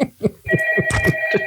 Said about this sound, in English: she receives a phone call.